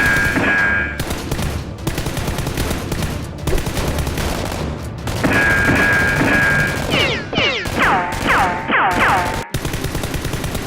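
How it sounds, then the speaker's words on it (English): A staged Nerf gun gunfight between a SWAT officer and a robber: continuous loud bursts of rapid fire with whistling and screeching effects layered over the shooting throughout. "Another fierce gunfight breaks out, and the female SWAT officer shoots the robber dead."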